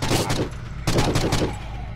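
Gunfire in the video game Forgive Me Father lands as two heavy, close shots about three quarters of a second apart, each trailing into a rumbling echo.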